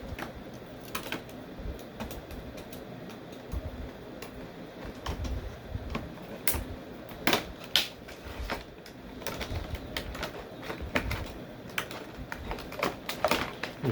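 Tape being cut and peeled while unboxing a 15-inch Toy Island Robocop figure, irregular close crackles, snips and rustles of packaging scattered over a quiet background.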